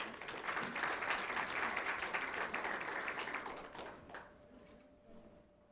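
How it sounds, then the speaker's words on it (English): An audience at a research plan launch applauds for the University of Free State, a dense sustained round of clapping from a crowd that fades out toward the end. "Big round of applause for the University of Free State."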